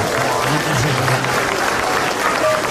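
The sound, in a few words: audience applause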